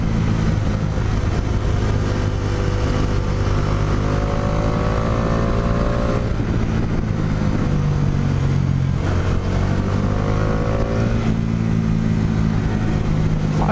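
A Bajaj Dominar 400 motorcycle growls steadily close by, its engine note rising and falling as the revs climb and drop through several pulls over a continuous low rumble.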